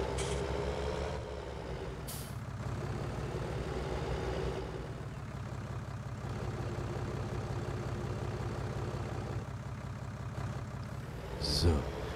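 Heavy farm vehicle from Landwirtschafts-Simulator 19 rolling forward with a steady low engine drone throughout, a brief air-brake hiss near the end, and a voice talking over it.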